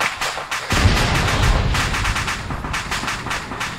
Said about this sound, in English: Alright, I blew up the other tank.